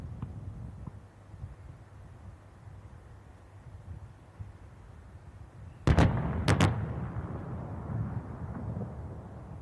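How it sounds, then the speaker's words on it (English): M777 howitzers fire shells at night at the Pokhran range. Several heavy booms burst out in quick succession after a stretch of windy rumble and echo off into a lingering roar. "M777 howitzer ने गोले दागना शुरू कर दिया गया है"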